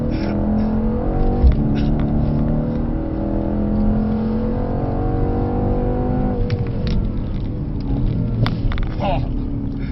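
Mercedes C63 AMG engine revving hard from inside the car during spirited driving, a steady loud rumble that climbs, then drops on a short shift to third gear and pulls again, with people talking over it.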